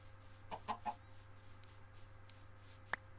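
Chickens in the Minecraft video game cluck in a few short, soft bursts, a quick cluster near the start and a single sharper cluck toward the end, over a low steady hum.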